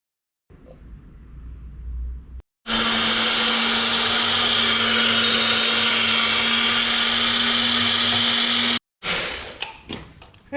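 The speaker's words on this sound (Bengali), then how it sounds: "এবার এইটাকে দিয়ে মিক্স করে আমি একটা ড্রিঙ্ক বানাবো।" A kitchen blender whirs steadily for about six seconds as carrot is blended into a drink, loud and continuous with a constant motor hum, starting and stopping abruptly between quieter moments.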